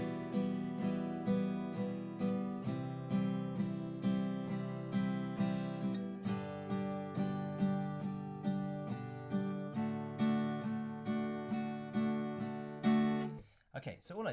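Rhythm guitar chords strummed with an even eighth-note subdivision on every beat, close and clear, switching chords partway through before stopping abruptly at the end.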